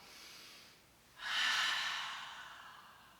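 Slow, deep breathing during standing qigong practice for better sleep: a soft breath, a pause, then a long airy inhale that gradually fades, close and quiet with no talking.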